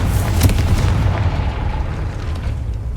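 Blasting spell detonates in Hogwarts Legacy as a loud, deep boom that opens strongly and rumbles on for a few seconds while slowly tailing off.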